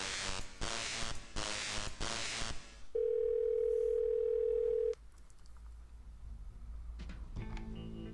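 A telephone dial tone in Thimbleweed Park, a steady pure hum held for about two seconds after a burst of static-like noise, then fading into quiet background.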